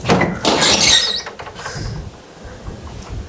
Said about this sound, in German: Die öffnet die Tür